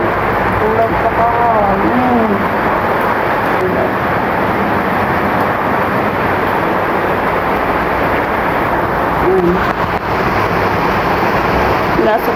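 Steady, dense typhoon rain hiss fills the clip, with faint voices and a brief rising tone buried underneath.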